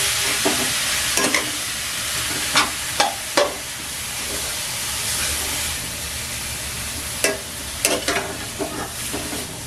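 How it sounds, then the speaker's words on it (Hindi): Carrots for carrot halwa stir-fried in a pan over a medium flame, a steady close sizzle broken by sharp scraping and clinking strokes of a spoon at irregular intervals, with no voices. "गाजर को इसमें भूनने से बहुत ही अच्छा फ्लेवर बढ़ जाता है इसका। थोड़ी देर से भून लें।"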